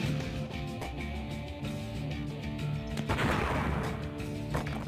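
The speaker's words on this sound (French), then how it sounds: "Donc voici ici une belle explosion" A large explosion in the flash war game City Siege 2 bursts out as a dense, crackling roar with gunfire-like pops, continuing loud and steady through the stretch with a sharper blast midway.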